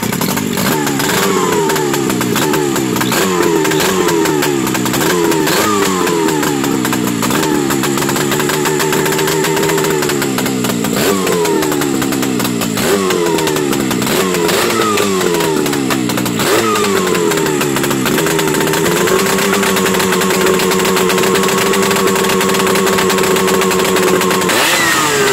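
A Buran snowmobile with an RMZ-640 engine revs repeatedly up close, each blip of the throttle rising in pitch then falling back, before it settles into a steady, higher run near the end; loud and continuous, with no voices.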